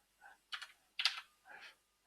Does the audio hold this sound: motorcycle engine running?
no